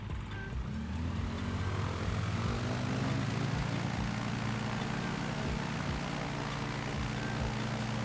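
A propeller airplane engine in a flight simulator replay drones steadily and fairly loud at an even pitch for the whole stretch, with no voices over it.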